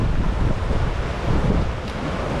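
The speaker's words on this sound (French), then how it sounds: "on surfe un peu les vagues" Sea waves washing around a sailboat under sail, a constant loud rushing wash with wind buffeting the microphone, with no voices.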